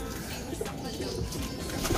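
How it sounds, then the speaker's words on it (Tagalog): Racing pigeons coo softly amid a busy, rustling background while being caught and basketed for a race, the low cooing fairly close but partly buried under noise. "Inuhuli na ni Kiyo Di Pogi mga ibon."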